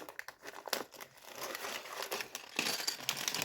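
Clear plastic bags from a Minecraft toy set crinkle and rustle continuously as they are handled and pulled open up close, with brief tearing sounds and no speech.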